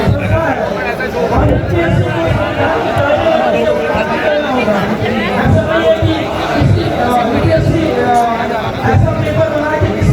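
Protest crowd in India, many voices shouting and chanting together in a dense, continuous roar of babble, loud and close, with no pauses across the whole stretch.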